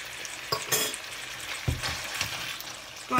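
Pork stir-fried with fiery curry paste in a pan, sizzling and crackling with scattered stirring scrapes and a few louder clatters, no talk.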